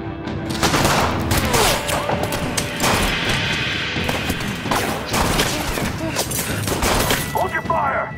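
Gunfire in the video game As Dusk Falls, a loud sustained volley of shots with crashing impacts, over shouting voices and tense music.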